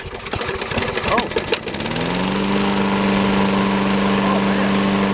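A Troy-Bilt lawn mower, a broken secondhand unit under repair, cranks with a few rough sputters and then catches, settling into a loud, steady running drone close by; a voice exclaims over the start.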